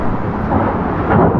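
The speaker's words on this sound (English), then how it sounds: "We got a big ass tropical storm over us" Thunder from a tropical storm rolls over a sailboat in the Bahamas, a loud, dense, continuous rumble that swells slightly toward the end.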